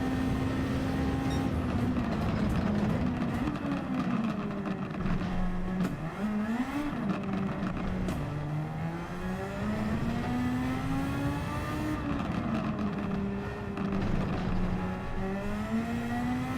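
A car engine in Gran Turismo 7 during a time trial revs continuously, its pitch climbing and dropping through gear changes over a steady, loud drone with no talk.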